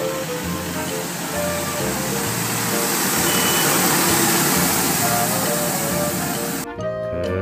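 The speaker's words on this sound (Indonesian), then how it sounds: "ada mobil truk pembersih jalan teman-teman" A street sweeper truck runs close by, giving a steady loud broadband rush and hiss with a low engine rumble underneath, cutting off abruptly near the end.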